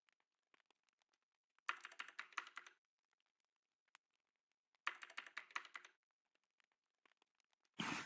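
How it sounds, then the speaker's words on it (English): Typing on a computer keyboard comes in two quick bursts of rapid, close clicking, separated by near silence with a few isolated key taps, then a short louder noise at the end. "Is anyone typing?"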